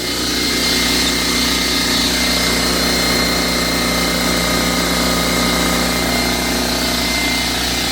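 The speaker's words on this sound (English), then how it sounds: "So I got the air compressor hooked up. It's filling up right now." A Harbor Freight air compressor running while it fills its tank, a steady loud motor drone with a constant mechanical hum, close and unbroken throughout.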